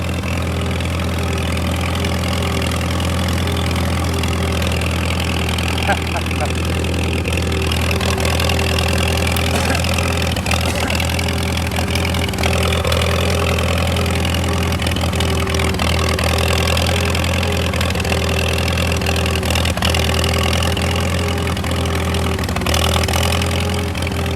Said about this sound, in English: Such a good old tractor.